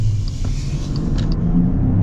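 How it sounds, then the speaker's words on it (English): A full-size luxury SUV, a 2025 Infiniti QX80 or Jeep Grand Wagoneer, accelerating hard, heard from inside as a deep steady engine rumble building over two seconds. "So we should be able to get a big acceleration here."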